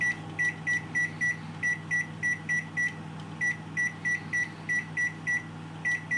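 A microwave oven beeps steadily in short, even pulses while its timer is set for a jacket potato, the tones bright and close over a low hum.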